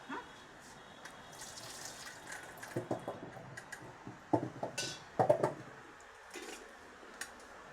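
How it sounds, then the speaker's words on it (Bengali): Soaked plantain slices are drained from turmeric water: water splashes and drips, and the slices clatter against a metal strainer and pot in uneven bursts. The sounds are close, with quiet stretches between them. "এবার আমি এটা ছেঁকে নিচ্ছি।"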